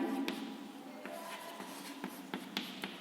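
A teacher writes by hand, chalk or pen scratching in short strokes with irregular taps and pauses, close and fairly soft.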